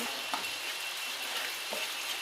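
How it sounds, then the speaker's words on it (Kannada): Puliyogare powder ingredients dry-roast in a pan over a low flame without oil, making a steady soft sizzle broken by a couple of light stirring scrapes. "ಸೊ ಚೆನ್ನಾಗಿ ಫ್ರೈ ಮಾಡ್ಕೊಳ್ಳಿ."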